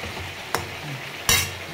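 Biryani masala sautéing in a pan on low flame while being stirred, a gentle steady sizzle punctuated by two sharp spoon scrapes or clacks, no speech.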